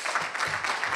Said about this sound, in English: So one more round of applause for Mark, please.